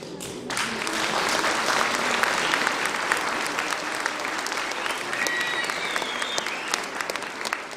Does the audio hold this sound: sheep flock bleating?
no